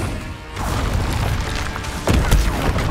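Incendio fire spells cast in the video game Hogwarts Legacy, heard as a whooshing, crackling burst followed by a heavy booming impact with woody thuds in the mix.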